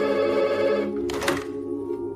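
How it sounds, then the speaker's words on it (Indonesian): A telephone rings with a bright electronic tone, one short ring heard close, a brief clatter in the middle. "Tiba-tiba saja ada telepon berdering."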